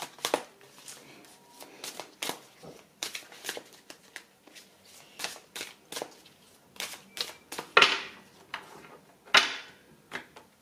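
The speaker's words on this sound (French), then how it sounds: "je vais prendre 3 cartes pour vous" Oracle cards are shuffled and drawn by hand, a steady run of close, soft riffling slaps and taps, with occasional sharper flicks as cards are pulled, and quiet talk now and then.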